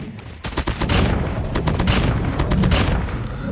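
A weapon fires in the naval video game Man-O-War, a loud dense volley of rapid shots and booms that keeps going without a break.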